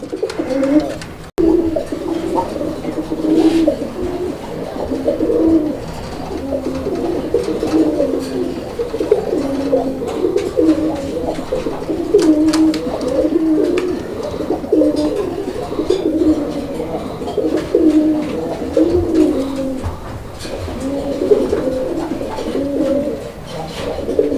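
Pairs of Raj Golla pigeons at a Bangladeshi breeder's sale coo steadily and repeatedly from close by, with continuous overlapping coos and no talk.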